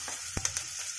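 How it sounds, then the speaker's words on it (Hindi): Chopped onion, green chilli and garlic frying in oil for a spicy ridge gourd curry, a steady close sizzle broken by a few sharp pops and stirring clicks. "ये भी थोड़ा सा भून जाए, इसको इसमें हम कटा हुआ प्याज ऐड करेंगे।"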